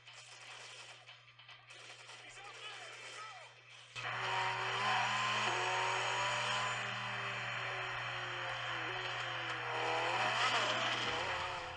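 Car racing in the video game Toca Race Driver 2, with a quiet stretch giving way to a sustained, rising and falling engine whine and tonal game sounds that stay strong to the end.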